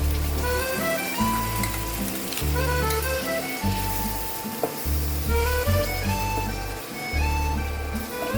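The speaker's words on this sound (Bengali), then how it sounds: "একটু ভাজতে হবে ভালোভাবে। অলমোস্ট ভাজা হয়ে গেছে।" Ingredients fry in a pan for a shrimp malai curry gravy, with a constant bubbling sizzle running under steady background music.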